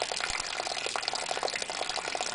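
Water pouring from a military water can, a Scepter or LCI type fitted with a valve-control pour spout: a steady, close gushing flow with gurgling bubbles throughout.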